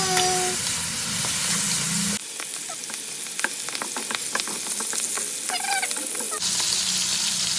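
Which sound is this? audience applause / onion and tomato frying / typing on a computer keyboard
onion and tomato frying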